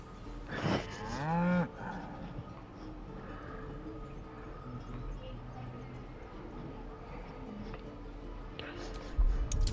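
An ox in the video game Baldur's Gate 3 lets out a drawn-out, wavering moo near the start, followed by quieter game ambience and faint footsteps or clops, with a thump at the end.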